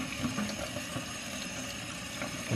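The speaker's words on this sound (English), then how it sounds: "Let's put some water on that filter" Cold water is poured onto the filter of an Arctic Air Ultra evaporative cooler, giving a soft continuous splashing trickle at close range and low level.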